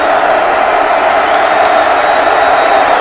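Stadium crowd at a college football game at Martin Stadium roaring steadily and loudly, a dense wash of cheering with no breaks.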